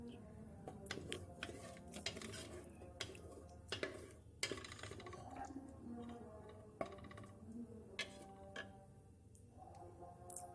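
Chana dal masala fries in a pot while a spoon stirs it, giving steady close scraping and clinking against the metal over a continuous sizzle, with no talking.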